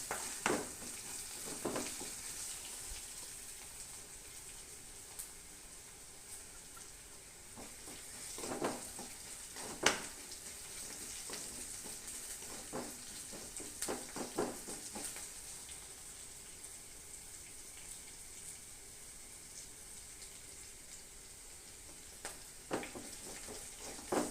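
Vegetables fry in a pan for an Onam sadya feast, giving a steady close sizzle with scattered stirring scrapes and clicks throughout, no talking.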